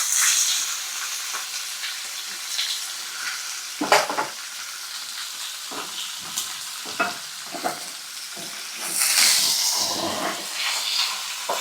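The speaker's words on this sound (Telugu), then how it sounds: "ఆయిల్ వేడాక పచ్చిమిరపకాయలు, తర్వాత డైరెక్ట్ చికెన్ వేసేస్తున్నాను." Chicken pieces and green chillies fry in hot oil, giving a continuous close sizzle and hiss with occasional louder crackles and spatters rising and falling throughout.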